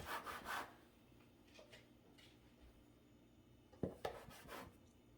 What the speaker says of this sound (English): we are going to chop our cinnamon rolls